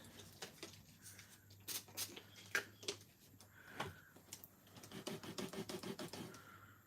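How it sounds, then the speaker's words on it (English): A rubber ink stamp scrubbed clean on a damp Stampin' Scrub pad, making quick, close, scratchy rubbing and patter with irregular bursts, alone and without voices. "I'm going to clean this really quickly with my Stampin' Scrub."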